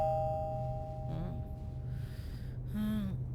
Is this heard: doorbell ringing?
yes